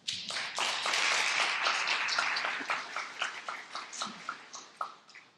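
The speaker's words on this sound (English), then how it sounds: "Another round of applause for John" An audience at a gathering claps warmly, loud at first, then thinning into scattered separate claps near the end.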